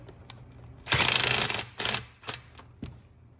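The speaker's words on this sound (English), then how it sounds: "we need to loosen the clamp that connects the air duct to the throttle body, and it takes an 8 millimeter socket to loosen." An 8 mm socket ratchet loosens the clamp joining the air duct to the throttle body on a fifth-generation Ram 1500. It gives a burst of quick, close mechanical clicking that runs about a second, followed by a few shorter separate clicks.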